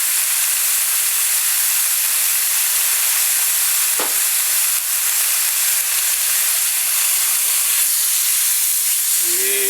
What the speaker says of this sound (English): I'm going to get a quick sear on each side to lock the flavor in.